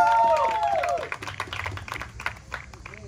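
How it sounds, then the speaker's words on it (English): Gospel church audience applauding the band and pastors, opening with a bright whooping cheer over the crowd, then scattered clapping that continues at moderate volume with some voices in the room. "give them a round of applause."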